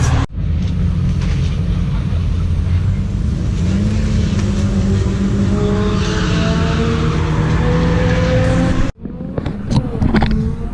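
A supercharged B230-engined Volvo 740 drift car revs hard, its loud, close engine droning continuously with climbing pitch for about nine seconds before cutting off abruptly, followed by rougher scattered mechanical noise.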